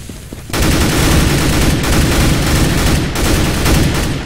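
Sustained heavy gunfire from a helicopter in the Counter-Strike video game, a loud, dense automatic burst that starts abruptly and rattles on for several seconds with slight dips, no talking over it.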